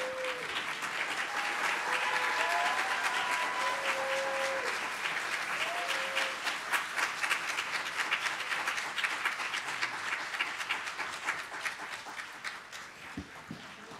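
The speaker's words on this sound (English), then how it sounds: "Give a round of applause." A large audience at a science and technology institute's final presentations gives a standing ovation, with dense, steady clapping holding for many seconds and a few whistles and cheers near the start.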